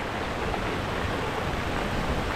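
Elkhorn Creek in Deer Lodge National Forest, Montana, rushes by in a steady, dense wash of flowing water, close and unbroken throughout.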